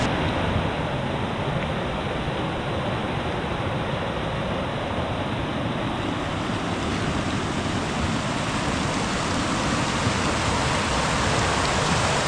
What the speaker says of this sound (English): It is raining now,